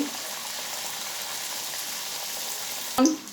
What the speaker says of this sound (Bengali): দেখুন একে একে সবগুলা ভেজে নিচ্ছি